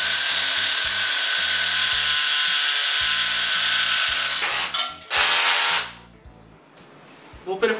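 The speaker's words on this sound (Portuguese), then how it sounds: "Vou perfurar concreto duro e usinado com broca 16mm." A Worx WX390.1 20V cordless SDS Plus hammer drill bores into hard, solid concrete with a 16mm bit, a loud continuous hammering roar that runs steadily, then cuts out in short bursts and stops, leaving quieter handling noise.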